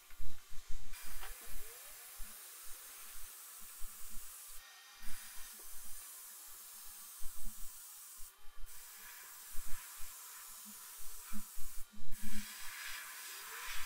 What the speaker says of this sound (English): I'm just trying to spray Gravitex through the normal gun